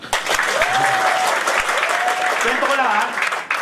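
A seminar audience claps hard and continuously, a thick wash of applause while a presenter keeps talking over it into a microphone.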